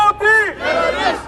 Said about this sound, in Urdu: مظاہرین کی انڈیا کے خلاف سخت نعرے بازی